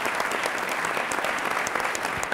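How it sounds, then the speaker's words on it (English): An audience at a prison reform summit panel discussion applauds steadily, a dense, even wash of many hands clapping close by with no speech over it. "give her applause for her courage in trying to bring this forward."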